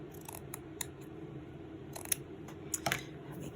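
Scissors trim fabric for a journal's fabric flip: a few quiet, crisp, close snips come in short clusters against a low, hushed background.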